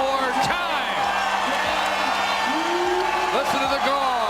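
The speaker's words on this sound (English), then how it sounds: "The crowd roars." Basketball arena crowd roaring for Ben Wallace, a loud sustained roar with whoops and cheers, while a commentator's voice talks over it.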